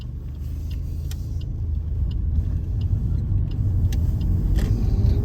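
A car drives around Edinburgh toward the Forth bridges, giving a steady low cabin rumble and road noise heard from inside, with a few faint clicks and no talk.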